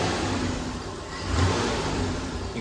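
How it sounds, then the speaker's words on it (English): A car engine revs steadily from idle during a fuel system injector test, its mid-pitched drone swelling briefly in the middle, then settling back, close and continuous with no talk. "hey Miles, can you rev it a little bit?"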